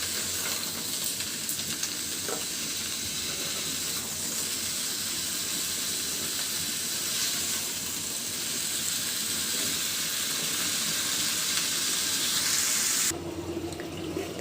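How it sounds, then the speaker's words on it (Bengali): Curry gravy with potatoes and bitter gourd bubbling steadily in a pan, a continuous close hiss and fizz that runs without a break before cutting off abruptly near the end. "খুব সুন্দর করে কিন্তু ঝোলটা ফুটতে শুরু করেছে"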